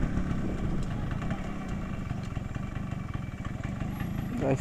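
A motorcycle idles at the roadside, a steady, close, continuous low rumble that holds evenly throughout with no talk over it.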